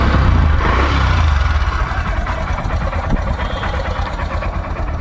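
A Honda Dream Yuga 110 motorcycle engine idles nearby with a steady low chugging rumble and slight mechanical knock, continuous and fairly loud, with no talk.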